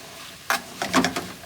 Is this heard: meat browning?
yes